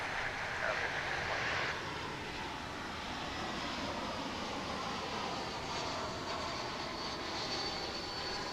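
A Volaris Airbus A320 arriving at DFW International Airport, a broad steady jet roar of moderate loudness holding throughout, with a brief brighter swell near the start and no clear talk.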